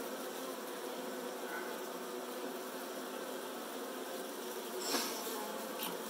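Saskatraz honeybees buzz in a dense, continuous drone while being installed into a hive, steady and close, with a brief louder swell near the end and no talk.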